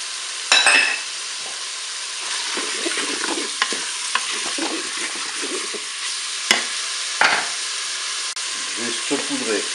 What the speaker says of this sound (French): Le beurre est fondu, je vais mettre mes morceaux de bœuf